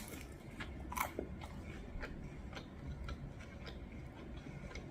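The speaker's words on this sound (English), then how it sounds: "she posted a mukbang inhaling spring rolls" Crunchy spring rolls being eaten in a mukbang, with close, repeated bites and chewing crunches at a steady pace, fairly quiet and with no talking.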